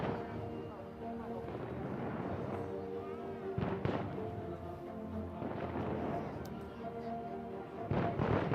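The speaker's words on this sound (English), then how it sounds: "We got some fireworks going off behind us." Fireworks boom in the distance at the Disneyland Resort on Cinco de Mayo, with a few muffled blasts and rumbling under steady crowd noise and nearby talking.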